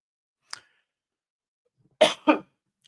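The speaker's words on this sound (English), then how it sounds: "Sorry about this fucking cough." A man coughs in a quiet room: one short, faint cough, then a pause and two loud, harsh coughs close together near the microphone, with no talking.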